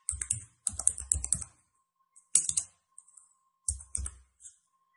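Keystrokes on a computer keyboard while entering a new network switch name, heard as several quick bursts of close, crisp clicks separated by short pauses, with no talking.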